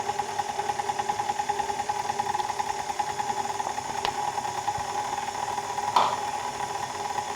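KitchenAid Artisan 5KSM175 stand mixer running on low with flour in the bowl gives a steady, moderately loud motor hum with a faint rhythmic rattle throughout and one brief knock near the end, without speech.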